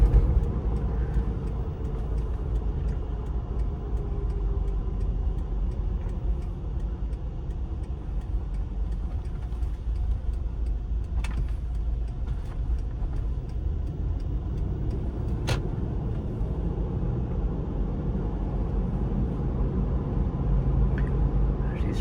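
A Lexus Land Cruiser truck with 128,000 miles, heard from inside while it drives: a steady low road and engine rumble for the full stretch, with occasional faint clicks and no talk.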